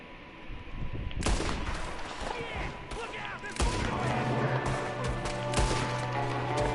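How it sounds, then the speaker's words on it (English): Shots ring out from a window during a Red Dead Redemption 2 gunfight, sharp reports cutting through a busy scene of crackling fire and scattered voices. "There's another one shooting from the window."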